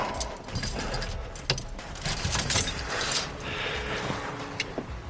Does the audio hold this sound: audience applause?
no